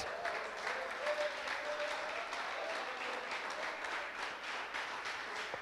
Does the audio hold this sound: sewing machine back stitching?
no